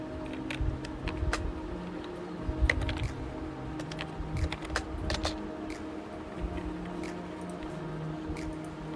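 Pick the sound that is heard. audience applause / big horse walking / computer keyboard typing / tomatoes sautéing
computer keyboard typing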